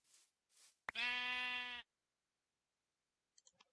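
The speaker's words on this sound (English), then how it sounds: "this is a dark gray sheep, isn't it?" A dark gray sheep in the Minecraft video game gives a single clear bleat, preceded by two soft rustling sounds and followed by silence and faint clicks.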